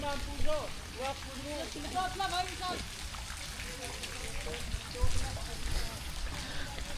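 Steady rain hisses throughout during flooding from an overflowing river, with a person talking briefly at the start and scattered louder splashes and drips.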